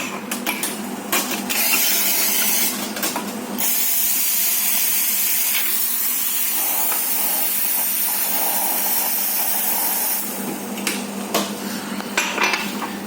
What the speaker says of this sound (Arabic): هنسحب بقى كده كوبايتين وهنعقم الكوبايتين بالميه السخنه